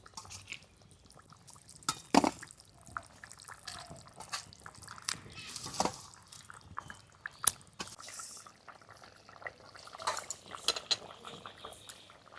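Fried fish pieces go one by one into simmering fish curry gravy in a pot, with scattered utensil clinks, soft splashes and drips over a quiet bubbling background.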